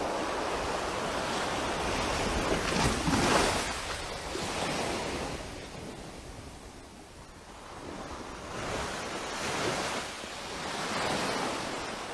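Ocean surf on the beach at Schooner Bay, a continuous roar of breaking waves swelling and easing in slow surges, mixed with gusty wind buffeting the microphone, no voices.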